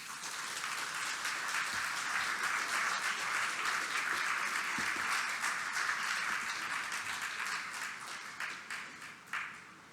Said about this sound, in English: That's the clap.